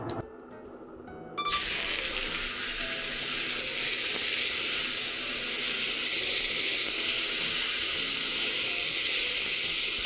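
Tomatoes hit hot oil in a pan over high heat, a sudden loud sizzle bursting in after a quiet moment and holding as a dense, steady hiss.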